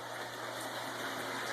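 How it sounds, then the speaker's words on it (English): Steady wash of snow and rain falling on a double-layered greenhouse, a constant broadband hiss with no breaks, fairly faint and even throughout. "it's been right now it's like a steady snow and rain in here."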